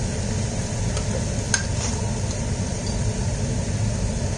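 Nam Prik Ong, a Thai chili paste, is stirred as it cooks in a pan, giving a steady, close scraping and sizzling texture with a few faint clicks throughout, no voices.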